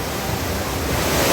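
Heavy floodwater surging along a street in Junagadh during monsoon flooding, a dense, steady broadband roar of rushing water close by, loud and unbroken throughout.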